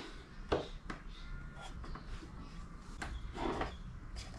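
A wooden drawer is fitted into a bathroom vanity: a few sharp knocks and a sliding scrape close by, around a quiet stretch of handling noise, with no talking.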